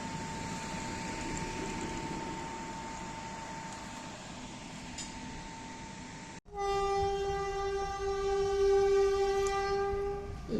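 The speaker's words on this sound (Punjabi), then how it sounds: "ਲਓ ਜੀ ਆਂਦਨ ਨੂੰ ਵੀ ਟ੍ਰੇਨ ਮਿਲ ਗਈ ਹੈ" A train rumbles steadily, then a loud, sustained horn blast cuts in close by and holds over the rolling noise.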